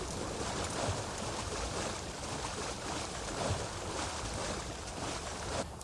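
A boat moves across a river in Assassin's Creed Valhalla: a continuous, moderately quiet wash of water and wind with no voices, steady throughout.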